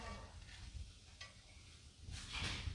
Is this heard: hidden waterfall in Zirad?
no